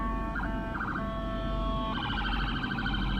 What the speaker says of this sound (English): I hear a police car. Oh, it's an ambulance.